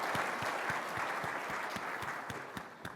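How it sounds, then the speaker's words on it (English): A conference audience applauds, dense steady clapping from many hands at close range with a few louder individual claps, tapering slightly toward the end. "let's give her a round of applause"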